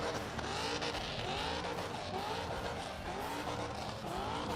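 A burnout car at Street Machine Summernats roars continuously with screaming tyres and a constant engine wail, loud and sustained with no break throughout.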